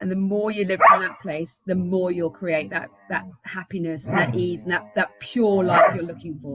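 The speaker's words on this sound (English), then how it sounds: "Sorry for the barking." A dog barks in short bursts near the microphone while a person keeps talking steadily over it.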